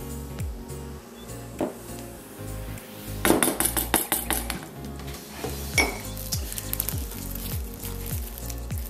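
Melted white chocolate stirred together with cold cream in a bowl, giving a run of close, irregular clinks and scrapes of a utensil against the dish, a little louder in the middle.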